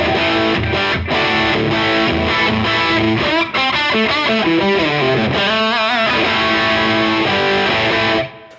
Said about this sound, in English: So very typical kind of British crunchy tone there.